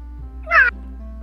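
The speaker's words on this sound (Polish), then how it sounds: "jak ty mogłaś w ogóle uderzyć kota?" A single short cat meow from a Minecraft cat that has just been struck, loud and close, rising and falling over about a quarter second against a steady low game hum.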